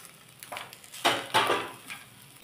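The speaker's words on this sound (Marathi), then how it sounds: "आता आपण मगाशी भाजून घेतलेली भेंडी याच्यात घालूया" A spatula scrapes and knocks against a pan as roasted okra goes in and is stirred, giving a few close, soft scraping strokes with no talk.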